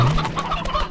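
Chickens in the farming game Slime Rancher clucking in a steady, busy stream of short calls, close and fairly loud, with no voices over them.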